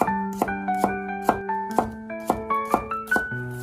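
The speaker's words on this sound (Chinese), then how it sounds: "准备一些大蒜，给它切成蒜片" A kitchen knife slices garlic cloves into thin pieces, striking the cutting board in quick, regular taps under a bright, melodic music track.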